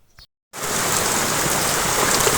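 Heavy rain pours on farm fields and an orchard in Gujarat, starting abruptly after a brief voice and a silence, then a dense, loud, steady hiss of downpour.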